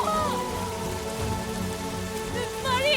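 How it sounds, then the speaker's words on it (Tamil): Heavy rain pours steadily onto a surface for a few seconds, a constant dense hiss with a faint tonal ringing mixed in, and no talk over it. "மழை தண்ணி உள்ள போகுது."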